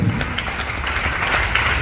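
Applause from an audience at an awards stage event for bike and car achievers, dense continuous clapping that holds at an even, loud level throughout with no talking.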